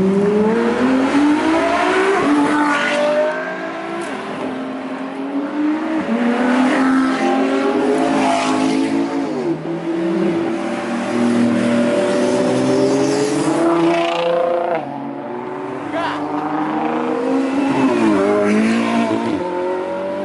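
A group of hypercars, two Ferrari LaFerraris, a McLaren P1, a Porsche 918 and a Porsche GT2 RS, accelerating hard down a strip at a car meet, with loud overlapping engine roars rising and falling in pitch through repeated gear changes and sustained revving.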